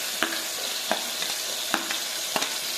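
Onion and garlic fry in a pan of oil for sambar, giving a steady close sizzle broken by a few sharp clicks and scrapes as they are stirred, with no one talking.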